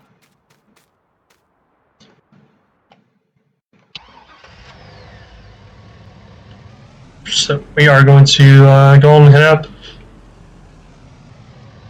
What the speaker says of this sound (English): there is a work truck over here that we can borrow to get back to the farm